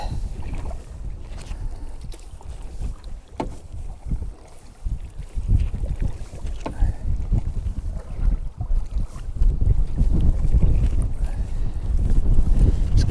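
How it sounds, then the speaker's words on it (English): Strong headwind gusts against the microphone while canoeing on the French River, a steady low rumble with water noise that grows louder in the second half. "That wind's picking up now, right around that corner. Big headwind."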